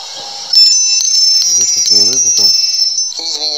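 A phone plays a bell-like ringtone: sustained bright chiming tones with repeated short pulsing notes, loud and close, alone without talk.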